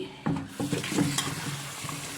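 Soaked rice being washed by hand in water, a short run of wet swishing and sloshing strokes with soft grainy rustles, close and fairly loud, no voices.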